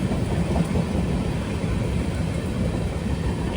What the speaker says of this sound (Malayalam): ട്രെയിൻ ഇതാ ഷൊർണൂർ ജംഗ്ഷനിലേക്ക് എത്തുകയാണ്